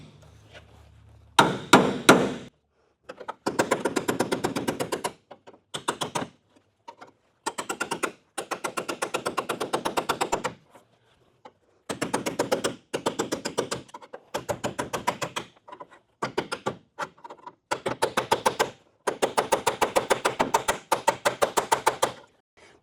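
A panel separator knife is hammered between the body panels of a 1974 Camaro, giving bursts of rapid, sharp metallic strikes close by, separated by short pauses.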